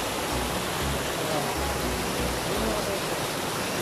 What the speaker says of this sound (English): Wow, mga mini waterfalls. Lot of mini waterfalls.